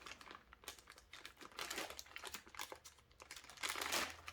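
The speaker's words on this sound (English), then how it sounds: "we have all our components here in a big bag. Let's just open that up quickly as well." Plastic bag of board game pieces being opened close by, quiet continuous crinkling and rustling with brief louder crackles near the end.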